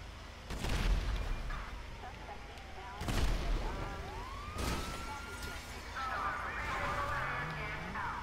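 Police car sirens wail in GTA 5, rising and falling at a middle distance among a couple of heavy booms and game noise, while someone talks over them.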